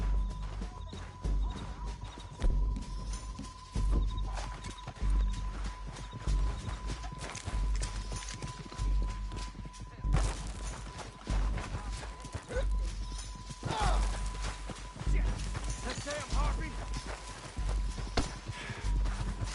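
Horses' hooves clip-clop steadily in Red Dead Redemption 2, a continuous trotting rhythm with scattered knocks and a faint steady tone, moderately quiet, with people talking at times.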